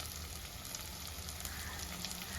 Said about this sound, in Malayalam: എല്ലാം നന്നായിട്ട് മൂത്ത് എന്ന് അതെ കിലി കിലിക്കിലാന്നൊരു സൗണ്ട് നന്നായിട്ട് വരും